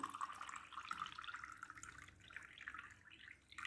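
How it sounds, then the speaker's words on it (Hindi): Water poured into a glass layered with garden, river and open-field soil, a quiet trickling and dripping that stays faint and steady throughout. "देन आप इसमें वाटर डालेंगे."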